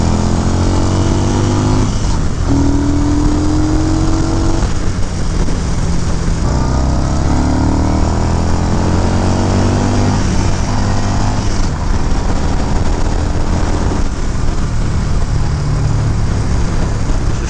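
Yamaha Bolt R-Spec motorcycle engine and exhaust on a ride, a steady loud rumble with rising and falling revs through gear changes and wind noise throughout.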